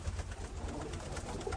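Racing pigeons and Birmingham roller pigeons coo in a loft, a soft, low, continuous murmur of several birds at moderate distance with no voices.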